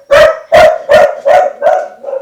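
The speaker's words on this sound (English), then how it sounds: "sorry about my dog." A dog barks five times in a steady rhythm, close and loud, each bark sharp with a strong tonal core, the last one softer.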